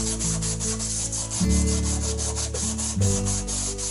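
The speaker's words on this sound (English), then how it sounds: "Because PVC is quite smooth, you'll need to roughen it up with some sandpaper to enable the glue to stick a little bit better." Sandpaper roughens a smooth PVC pipe for a DIY garden fencing and planter project, giving a steady, close back-and-forth rubbing rasp over a low tonal hum.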